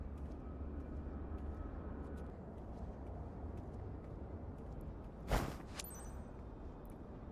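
A fixed-wing airplane engine in Microsoft Flight Simulator 2024 drones steadily at a moderate level throughout, with a brief louder burst of noise near the end.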